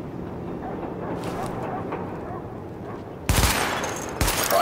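Gunfire aimed at highlighted targets during a weapon test in Tom Clancy's The Division: two loud, close bursts of automatic fire cut in sharply after a stretch of low ambient rumble, the second burst following shortly after the first.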